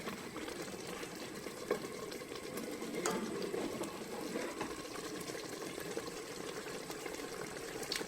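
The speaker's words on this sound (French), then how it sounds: "je vais rajouter mon eau" Water poured into a pot of chorba soup on the stove, a continuous soft splashing rush with faint clicks, heard up close at low volume.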